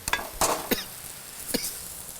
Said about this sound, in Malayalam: ഉള്ളിയും കൂടെ അതിലിടുക ഉള്ളി പഴറ്റാനായിട്ട്